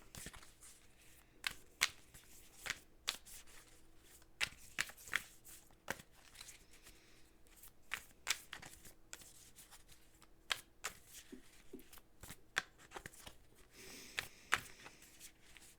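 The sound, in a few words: shuffling a Moonology oracle card deck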